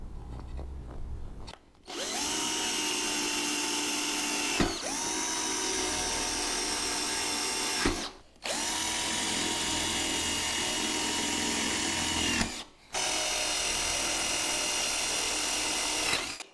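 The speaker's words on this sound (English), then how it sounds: "the first thing I did was drill at the end of the cracks" A power drill whines steadily in four long bursts while drilling holes at the ends of cracks in aluminum, separated by brief stops, loud and close with no talking.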